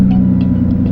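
A car engine started with a key in the dash settles into a steady low idle hum, loud and close, alone for a brief moment.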